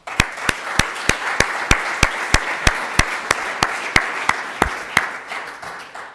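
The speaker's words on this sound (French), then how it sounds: "Nous pouvons l'applaudir" Audience applause at a public academy arts ceremony: a steady wash of crowd clapping runs for about six seconds, topped by sharp, loud, evenly spaced claps from one nearby person at roughly three per second, with no talking.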